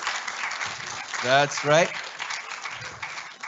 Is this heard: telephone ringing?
no